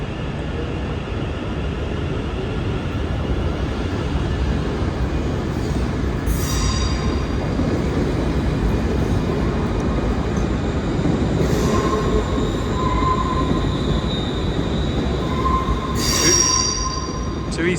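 Class 380 electric train departing Glasgow Central station, heard from the platform: a steady low rumble of wheels and motors with several sharp, high wheel squeals breaking through at intervals as it pulls away, with no talking.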